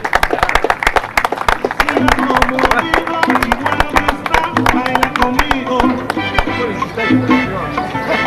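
An audience applauds trophies at an award ceremony for a Superdevluy rider cup event. The clapping is dense and steady and sits under talk and other sound throughout.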